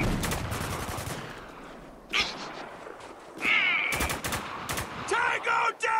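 Gunfire from a firefight in the video game Spec Ops: The Line, a few sharp shots amid busy combat noise, with voices calling out and shouting between the bursts.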